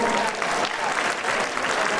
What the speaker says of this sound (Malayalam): ഒരു കയ്യടിയും കൂടെ കൊടുക്കാം അവർക്ക്.